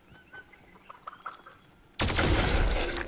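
A chicken in a shooter video game clucks softly in a few short, faint calls, then a sudden loud burst of noise cuts in and fills the rest.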